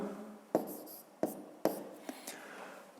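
Pen writing numbers by hand on paper, three sharp taps followed by soft scratching strokes, close and quiet, without speech.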